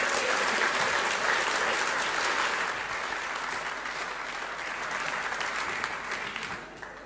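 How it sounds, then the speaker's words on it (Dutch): Warm studio audience applause for a Dutch VVD member of parliament joining a political talk show panel, a full, even wash of clapping that lasts several seconds and slowly thins toward the end. "geef een warm applaus"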